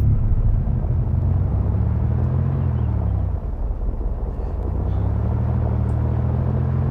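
A car engine runs in the video game Arma 2 DayZ, a low steady rumble with a brief dip midway before settling back, heard alone with no talking.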